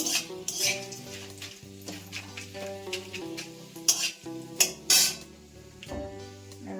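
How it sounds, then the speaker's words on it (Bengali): Spiced rice stirred in hot ghee in a pan, with steady scraping strokes and metal utensil clinks over a soft sizzle, close and moderately loud, and faint musical tones running beneath. "এবারে আমি রাইসটা দেব দিয়ে একটু নাড়াচাড়া করতে হবে"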